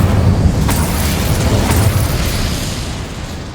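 A fiery Incendio spell blast in the video game Hogwarts Legacy, a loud roaring burst of flame with a couple of sharp pops that slowly dies away.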